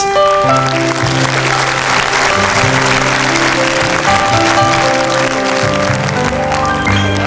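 A 1981 French television variety studio audience applauding a child performer, dense sustained clapping over loud orchestral music that plays throughout.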